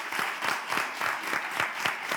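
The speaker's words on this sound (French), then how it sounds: "Elle est avec nous, on applaudit Miss Célia." A small audience claps for Miss Célia, a soft, fairly distant patter of hands with a loose rhythmic pulse, brief and low in level.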